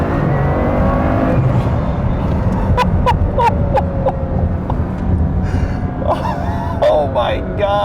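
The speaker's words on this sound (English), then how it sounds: "there are few cars on earth with acceleration like that." A Bugatti Chiron Pur Sport engine roars hard under heavy acceleration, loud and continuous, while a person exclaims and gasps over it.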